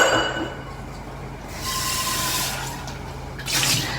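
Water poured into a pot to heat for steaming okra in a home kitchen, a steady splashing rush with a brief louder surge near the end, alone with no voices.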